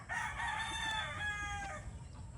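A gamefowl rooster on a farm lets out one loud, close crow that rises and then trails off, with low background noise underneath.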